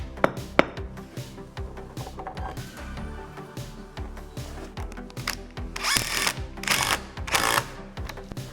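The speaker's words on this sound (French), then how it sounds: "on viendra avec la perceuse pour faire des trous au niveau de la dalle à la chaux." A power drill bores holes into a lime screed slab in an attic being converted, with short bursts of whirring and grinding separated by pauses and knocks, loudest toward the end.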